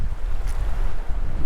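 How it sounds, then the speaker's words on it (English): Wind gusting beside open water on a fishing outing, a steady loud rush and low rumble of wind buffeting the microphone, with a faint wash of water underneath and no talking. "And the wind is picking up."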